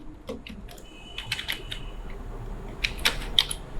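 Computer keyboard typing during a spreadsheet lesson, with quick clusters of close key clicks and several sharper taps toward the end, alone without speech.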